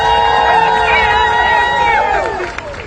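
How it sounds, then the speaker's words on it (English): A rally crowd for disability supports cheers and whoops for Alex, a disabled sign artist, with sustained loud shouting and a few high voices over a dense, steady roar that fades slightly at the end. "Let's have a big round of applause for Alex"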